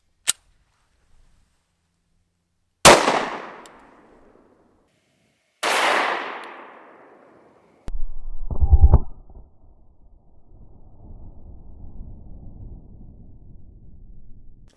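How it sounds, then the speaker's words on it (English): A .45 ACP Smith & Wesson Shield fires 230 grain Federal Premium HST rounds at an outdoor range, producing three sharp, loud reports spaced a few seconds apart, each trailing into a brief echo, followed by a clatter and low rustling. "The gun I'll be using is the 45 ACP Smith & Wesson Shield, and the first round we're going to test is the 230 grain Federal Premium HST."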